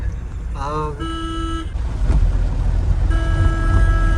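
A car horn on a road, heard from inside a moving Mahindra Bolero, toots in two blasts: a short wavering one, then a longer steady honk, over a constant engine and road rumble.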